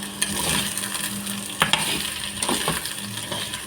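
Shallots and green chilies sizzle steadily in a hot pan while a spoon stirs them, scraping and clinking against the metal a few times up close.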